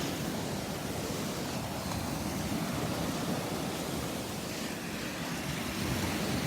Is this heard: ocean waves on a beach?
yes